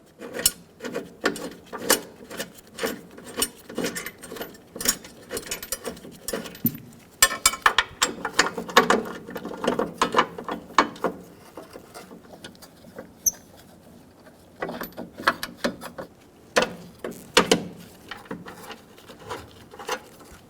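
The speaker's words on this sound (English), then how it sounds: "install the bracket onto the bumper, get the bolts started." Bolts are threaded onto a bracket on a Toyota Tacoma rear bumper with a ratchet, giving rapid metallic clicking in irregular bursts with short pauses, close and fairly loud.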